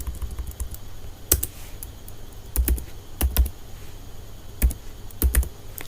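Typing on a computer keyboard while writing HTML code: irregular bursts of crisp key clicks and clacks, close and fairly quiet, with short pauses between keystrokes and no talking.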